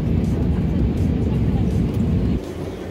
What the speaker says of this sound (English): Looks like we're about to take off